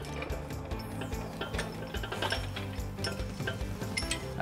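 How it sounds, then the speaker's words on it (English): A steel trailer hitch for a 2015 Dodge Durango rolls into place on a wheeled hitch jack. Close, quiet metallic clicks, rattles and ratcheting clinks repeat irregularly throughout. "now we're going to roll our hitch into place using our exclusive U-Haul hitch jack"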